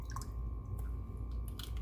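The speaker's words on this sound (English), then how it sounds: "I'm going to drain some of the water." Tomato juice drains from a can into a bowl, a short close wet squishing trickle with small drips and splatters.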